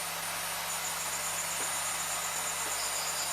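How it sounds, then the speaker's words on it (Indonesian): A high-RPM circular saw steadily cuts through wood for a PSHT mori box, its loud, constant whirring roar filling the whole stretch without a break. "namanya itu adalah circular saw"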